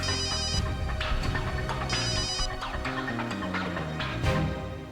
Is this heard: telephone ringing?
yes